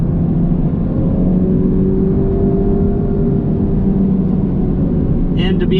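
Honda Civic Type R, 2023, on a raceway: steady loud engine drone and road roar throughout from inside the car, with a faint brief whine near the end.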